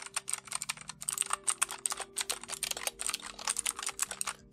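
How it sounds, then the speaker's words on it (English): Dense, continuous clicky typing on the keys of an H1300 one-handed RGB gaming keyboard, rapid overlapping keystrokes at close range with no talking. "Now for the keys."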